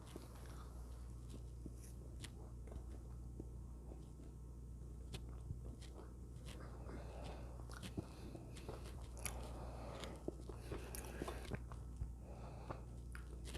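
Someone chewing a mouthful of crunchy freeze-dried hamburger powder, with faint, close crunching and biting sounds repeating irregularly over a quiet background hum.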